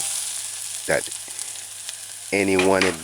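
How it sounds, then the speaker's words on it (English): Onions and seasoning sauté in a pan, giving a steady hiss and sizzle throughout, with short bursts of talk over it. "why I saute the onions and the seasoning like this"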